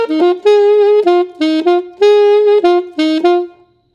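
A solo saxophone plays the opening line of a funk tune, a clean run of short, punchy repeated notes in a syncopated rhythm, close and loud with no accompaniment.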